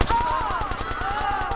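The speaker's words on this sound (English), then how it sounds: "Got my Tommy gun." A Tommy gun fires in rapid bursts in Watch Dogs, a steady stream of quick shots over a droning musical background, loud and close throughout.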